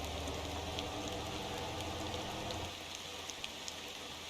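Rain in the driving game Motor Town patters steadily on a full bus, a dense even hiss of drops with a low rumble that eases partway through, no voices.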